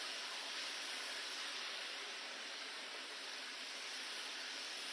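Two kilos of chicken fry in hot oil over a stove, giving a loud, steady, unbroken sizzling hiss that holds evenly throughout with no talking.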